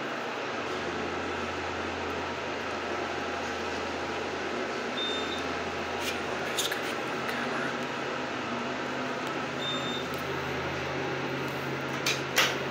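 A 2019 MEI hydraulic elevator runs in a Target parking garage at Irvine Spectrum Center, giving a steady low hum and hiss of the pump with a few faint clicks and a brief clunk near the end.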